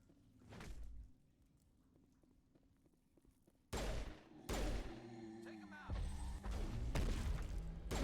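Rocket launcher blasts and sniper rifle shots in a video game: a few loud separate booms and cracks with crashing debris, spaced between quieter stretches, fairly close.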